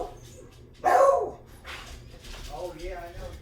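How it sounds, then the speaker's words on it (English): Dogs barking outdoors, one sharp loud bark burst followed by fainter yips and whimpers, with someone talking over them. "Dogs are barking at my husband."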